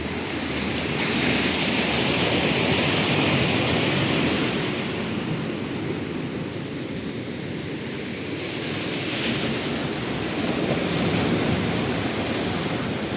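Big ocean waves surge and crash on a rainy, windy shore, a loud continuous roar that swells and recedes in slow cycles with wind noise buffeting the microphone.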